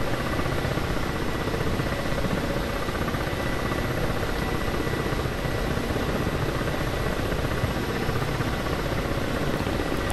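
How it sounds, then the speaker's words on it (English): A helicopter in the combat flight simulator DCS World flies steadily, its loud, dense rotor and engine roar continuous and unbroken throughout, with no voices over it. "I like this helicopter."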